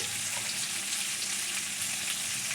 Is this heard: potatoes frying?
yes